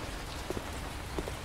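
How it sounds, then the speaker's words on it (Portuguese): Steady rain falling in the Cafe Owner Simulator game, a continuous soft hiss of drops with a few slightly louder patters, no voices. "Tô aqui pegando chuva, né, mano?"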